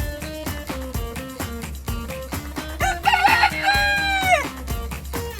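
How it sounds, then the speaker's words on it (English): A hen heard over a rhythmic musical backing, with a drawn-out crowing-like call in the middle and clucking calls around it. "It's a hen."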